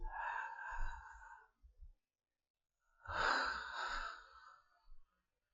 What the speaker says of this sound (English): Let us practice double breathing.